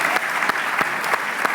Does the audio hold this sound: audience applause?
yes